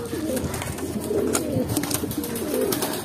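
Racing pigeons coo softly in a low, repeated murmur at a derby loft, steady and close, with light rustling and background noise.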